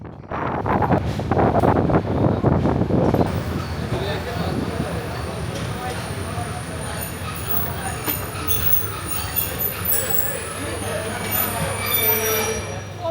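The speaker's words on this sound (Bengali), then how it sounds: "ধীরে ধীরে আমাদের ট্রেন পৌঁছে গেল প্ল্যাটফর্মে" A Parjotak Express train slowly pulling into the platform at Cox's Bazar railway station, with a steady low rumble of wheels and car noise, louder in the first few seconds, plus wind buffeting and voices in the background.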